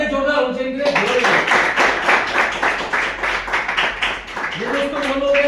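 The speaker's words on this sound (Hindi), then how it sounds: "ये दोस्तों हमारे बीच में कुछ तालियां जोरदार होनी चाहिए।" An audience at a business plan show in Muzaffarnagar claps loudly in a sustained burst of many hands, with a speaker's voice briefly audible before and after the clapping.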